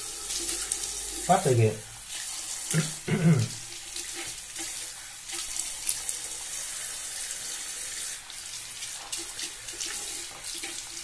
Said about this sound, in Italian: intanto mi bagno un po' il viso